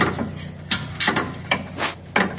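A ratchet wrench with a 14 mm deep socket working on a brake caliper bolt on a 2011 Hyundai Veracruz: a handful of quick, close mechanical clicking bursts with short gaps between them.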